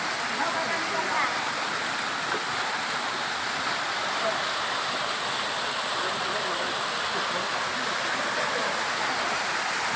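A waterfall at a bathing spot in Munggai village, Pariaman, roars as a steady, dense rush of falling water, constant and loud throughout with no break.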